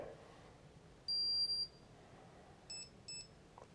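A home alarm system keypad being armed sounds one sustained beep, then two short quick beep bursts in a quiet room.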